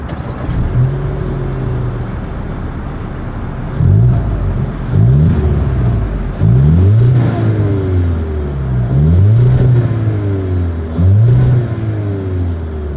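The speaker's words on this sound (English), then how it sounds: "As always, here is that exhaust clip." A 2025 Volkswagen Jetta with a single exhaust idles and then revs several times. The loud, close engine swells and falls back between each blip.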